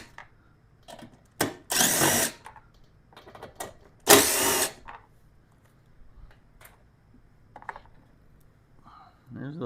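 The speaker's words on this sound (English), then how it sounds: "now we'll take out these 3 8mm bolts." Three 8mm bolts are backed out of a plastic panel on a Lifan KPV 150 / Skygo ADV 150 scooter with a power driver, two short whirring bursts close by, separated by small handling clicks.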